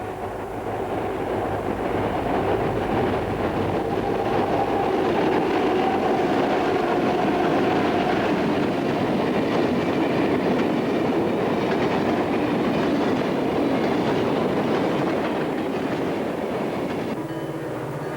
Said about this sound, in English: two C&O SD50s roll another westbound